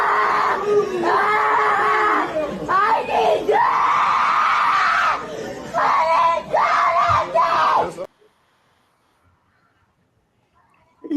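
A child screams loudly in a played recording, with long wailing bursts and brief breaks for about eight seconds before the sound cuts to near silence.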